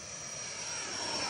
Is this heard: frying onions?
no